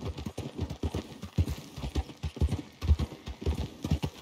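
Horse hooves clip-clop at a steady trot in the Red Dead video game, a rhythmic series of soft, moderately close thuds with no talk over them.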